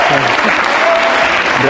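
Studio audience applauding at a live show, a dense burst of close, loud clapping filling the moment, with a host's voice speaking over it.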